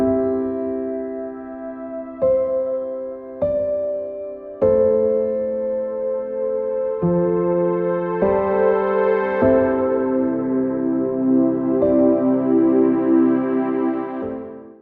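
Soft synth pad chords layered over piano move through a progression, with several distinct chord changes struck in sequence and sustained, building fuller toward the end, with no talking.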